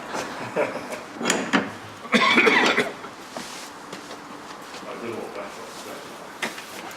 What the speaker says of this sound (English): it's too cold, shut the door again.